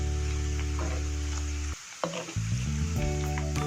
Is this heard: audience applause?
no